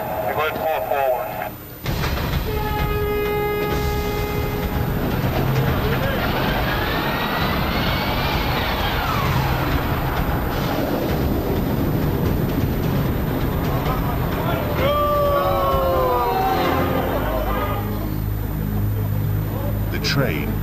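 Prehistoric-themed roller coaster train labouring under a launch power surge, then rolling backwards: a loud, continuous mechanical rumble and whine with rising and falling tonal sweeps, with people talking over it throughout.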